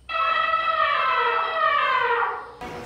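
A sound box plays an elephant trumpeting: a long, loud blare with rich harmonics, holding steady for over two seconds before cutting off abruptly.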